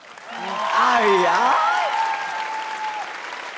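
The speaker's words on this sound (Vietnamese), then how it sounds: "một tràng vỗ tay nữa cho Xuân Lộc và Hải Anh thưa quý vị." Steady studio audience applause swells and holds at a Vietnamese TV dance competition show, with a host's voice and music-like tones riding over the clapping.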